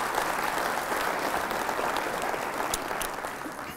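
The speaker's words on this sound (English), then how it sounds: "Let's give them a round of applause" Audience applause at a State of the City address, steady dense clapping filling the whole stretch at moderate distance with no voices.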